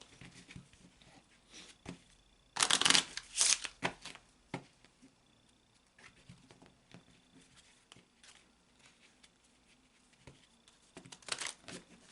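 Tarot cards are shuffled close up in a couple of quick riffling bursts, with softer handling rustles and taps between them.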